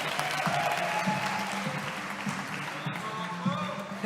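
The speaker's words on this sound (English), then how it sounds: "Round of applause." An audience at a startup demo day applauds, steady clapping filling the room, with a voice speaking over part of it.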